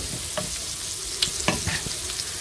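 Sausage and merguez frying in oil with turmeric, a close, steady crackling sizzle with scattered sharper pops and light stirring scrapes of a utensil against the pan.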